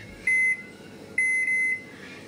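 A kitchen microwave oven being set for a ten-minute micro-convection cycle gives two clear, close electronic beeps, the second longer, with no talk.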